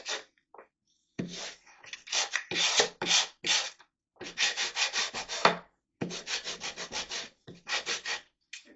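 Leather being roughed up with 180-grit sandpaper before gluing, a series of close, scratchy back-and-forth rubbing strokes in uneven bursts separated by brief pauses.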